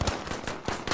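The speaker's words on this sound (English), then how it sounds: "I'm fucking shooting the railing!" Gunfire in the Battlefield video game, rounds aimed at a railing: a string of sharp, loud broadband shots in quick irregular bursts, close and dominant.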